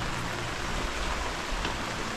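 Steady rain falls during a household scene, a dense, even hiss with no gaps and no voices.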